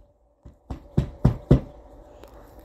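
Banging knocks on a dorm suite door: about four sharp, loud raps in quick succession after a faint first tap, with no voices over them.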